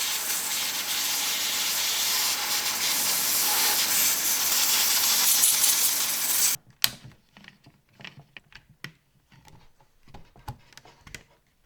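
Compressed air from an air compressor blasts sawdust out of a Triton MOF001 1400w router, a loud continuous hiss lasting several seconds before cutting off abruptly, followed by scattered clicks and taps of handling.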